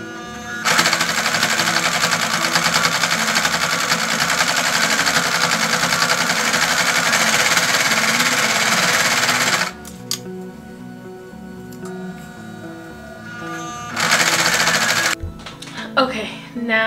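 Sewing machine stitching fabric in a long, steady mechanical whir that runs for about nine seconds, stops, then starts again for a short burst near the end, close and loud.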